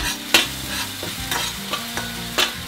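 Chili paste with turmeric frying in a little oil in a pan: steady close sizzle with scraping stir strokes recurring every half second or so, and no talking.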